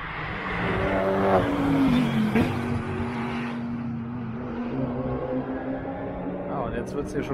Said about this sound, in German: Aston Martin, geiles Auto, brummelt schön